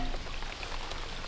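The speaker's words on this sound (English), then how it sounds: "Already raining." Steady rain patters on a surface, a dense, even hiss of drops that holds constant throughout with no voices.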